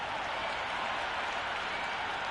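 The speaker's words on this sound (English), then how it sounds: "The crowd are making a heck of a lot of noise even before the first ball's been bowled" A stadium crowd in the cricket video game Cricket 26 roars steadily at a T20 World Cup match between England and Australia before the first ball, a dense, even wash of cheering and applause.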